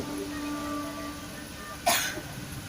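A single short cough breaks through a quiet, faintly humming room.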